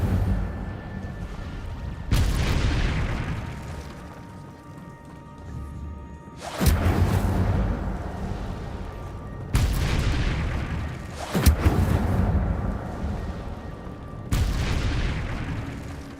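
Incendio fire spells from Hogwarts Legacy erupt in sharp, loud whooshing blasts, five of them spaced a few seconds apart, each flaring suddenly and then fading into a roaring, crackling tail.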